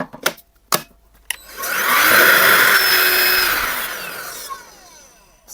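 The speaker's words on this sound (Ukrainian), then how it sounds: "Зараз поглянемо на сам пилосос." A DeWalt DCV501 cordless vacuum cleaner clicks, switches on and runs with a steady high whirring whine for about three seconds, then winds down, heard close up with no talking.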